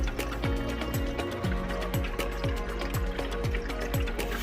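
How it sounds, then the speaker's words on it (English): Water flows and gurgles inside an evaporative tower fan swamp cooler, a rhythmic series of bubbling, dripping pulses about twice a second over a steady low hum of the unit. "I can hear the water coming up this way"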